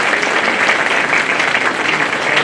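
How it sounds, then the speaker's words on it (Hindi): An audience applauds at a Bar Council of Delhi enrolment meeting for new advocates: loud, continuous, dense clapping from a large crowd, sustained evenly throughout with no talk over it. "अपने लिए तो ताली बजाओ भाई,"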